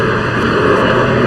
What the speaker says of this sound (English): There comes the jet engine online.